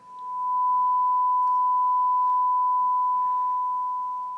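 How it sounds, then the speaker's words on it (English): A steady 1 kHz sine test tone played through a hi-fi amplifier, a pure continuous beep held loud and unbroken for several seconds with nothing else, easing off slightly at the end. "So what I've got is a 1 kHz tone"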